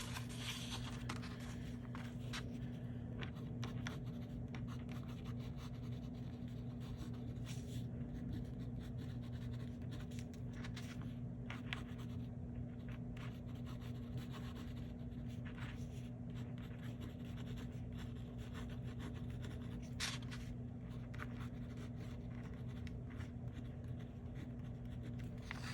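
An Esterbrook Esty fountain pen with an extra fine nib scratches across paper in a steady, faint, continuous scribble over a constant low hum, with small ticks as strokes start and stop.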